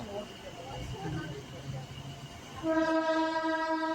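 Local train from Puducherry to Chennai Egmore leaving Valinur station in rain, a low rumble of the carriages followed by a loud sustained horn blast toward the end.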